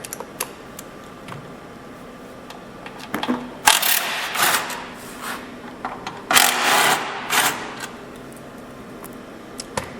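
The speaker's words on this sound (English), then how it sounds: "you're going to remove the bolts that retain the bearing" Bolts being removed from the bearing retainer during a TEAM Industries clutch kit installation on a Yamaha Nytro snowmobile: a few scattered clicks, then two louder bursts of ratcheting metal tool noise up close, with no talk.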